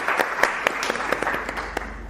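Applause from a climate solutions forum audience greeting the event's MCs, a moderate round of many hands with distinct sharp individual claps standing out over a steady patter.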